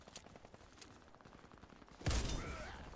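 Gunfire in the Warface shooter on Nintendo Switch, a Marlin 1894 Custom rifle in play: faint scattered pops early, then a sudden loud blast around two seconds that rings on into a sustained noisy roar.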